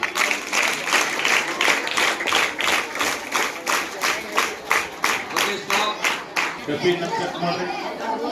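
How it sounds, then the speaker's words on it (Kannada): Students at a school parliament election break into rhythmic clapping, a run of sharp claps that fades into crowd chatter and voices. "ಜೋರದ ಚಪ್ಪಾಳೆ ಬರಲಿ"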